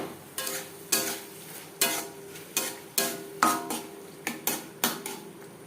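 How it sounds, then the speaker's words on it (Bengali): Sliced tomato being mixed into fish oil in a pan, with about a dozen evenly spaced scraping strokes of a spatula against metal over a light sizzle, close and clear. "তেলের সাথে টমেটো বেশ ভালো করে মিক্স করে দেব"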